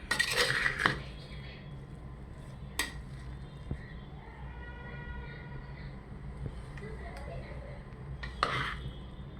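Jackfruit biriyani being served, with faint clinks of cutlery and dishes, a few sharp metallic knocks scattered across a quiet kitchen background.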